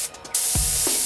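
A paint spray gun lays down base coat at roughly 2.2 air pressure, its steady, close hiss starting sharply after a brief pause and holding constant to the end.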